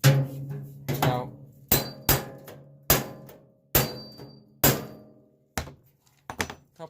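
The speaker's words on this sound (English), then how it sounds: "couple hits with the hammer and chisel does the same job." Hammer blows on a chisel knock off a security screw on a microwave oven's metal casing. About ten sharp, ringing metallic strikes come at uneven intervals, each decaying quickly, close and loud with no speech.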